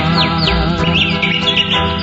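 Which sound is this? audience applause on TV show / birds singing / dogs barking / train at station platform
birds singing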